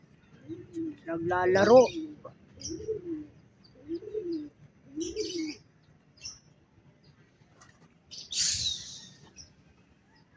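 Pet pigeons coo in a series of soft, low, rounded calls, several spaced a second or so apart, close by, with someone talking over and between them.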